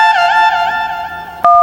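A telephone number being dialed on a phone: a steady electronic tone runs under faint background, then ends in a short, loud two-tone burst.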